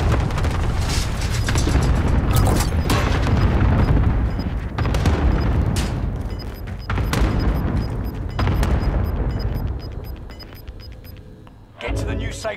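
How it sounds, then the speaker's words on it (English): A cluster airstrike in Call of Duty: Modern Warfare unleashes repeated heavy explosions, loud booming blasts that roll and overlap for several seconds in a near-continuous barrage before thinning out toward the end. "Cluster strike is active."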